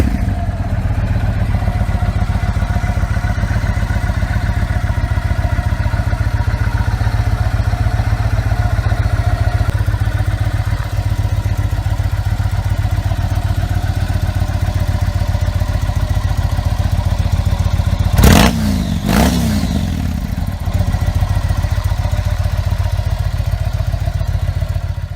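A Yamaha MT-01 with its air-cooled 1670 cc V-twin runs at a steady idle, a deep continuous throb heard close and loud, with a pair of brief clattering knocks partway through.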